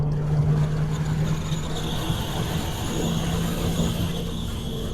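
An engine-swapped Audi TT lapping the Brands Hatch race track gives a steady, sustained engine drone with a tonal whine and constant road and wind noise throughout, heard from inside the car with no talking.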